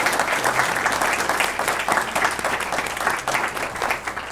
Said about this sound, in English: if you could join me in giving them a big round of applause